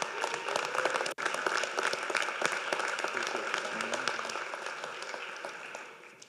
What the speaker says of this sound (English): Interim Board Chair Izzy Marrero, please join me in welcoming Mr. Marrero to the podium with a round of applause.